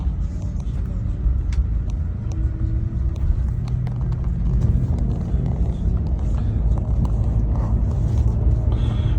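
Inside a moving tour bus in Copenhagen, a steady low engine and road rumble drones throughout, with faint rattles and creaks of the cabin.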